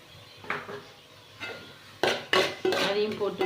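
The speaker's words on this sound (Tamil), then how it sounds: "போட்டு நல்லா வதக்குறோம்." Paneer fried rice ingredients are sautéed in a pan, with a spatula scraping and clanking against the metal in several close, loud strokes that come faster toward the end.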